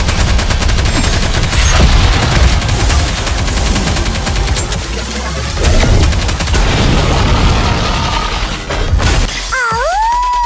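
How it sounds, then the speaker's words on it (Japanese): A concentrated volley of gunfire rattles through a NIKKE boss fight: loud, dense automatic shots and crashing impacts pour continuously, ending with a rising electronic whine. "火力集中。 前方の敵に一斉射撃"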